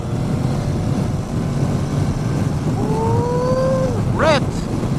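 A 2021 Honda NC750X motorcycle engine accelerates on an open road under a steady roar of wind rush, with a rising whine emerging midway before a brief sharp sweep near the end.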